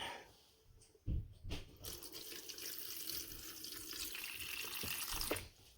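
Water poured into a plant pot during apartment gardening, a steady splashing, trickling pour beginning with a sharp splash and running continuously into the soil, close and fairly loud.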